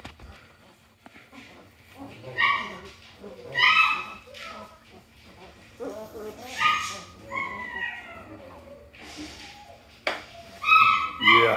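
German Shepherd puppies in a kennel let out high yips and whimpers in bursts, close by, with someone talking over them.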